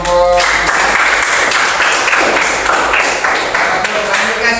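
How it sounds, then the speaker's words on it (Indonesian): Audience applause for a student group in a classroom lesson, dense steady clapping throughout, fairly loud and close, with a voice speaking over it. "Sila tepuk tangan buat kelompok"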